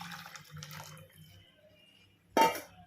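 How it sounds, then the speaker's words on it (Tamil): Tamarind water poured into a simmering fish curry in a home kitchen: a sudden, close liquid splash and pour lasting about half a second, following soft quiet kitchen sounds. "இப்போ இந்த புளியை நம்ம கரைச்சி வச்சுருக்கோம் இல்லையா, நம்ம அதை ஊற்றிக்கலாம்."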